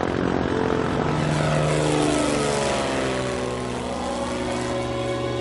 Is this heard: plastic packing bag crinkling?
no